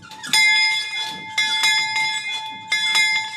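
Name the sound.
bell on vintage train being rung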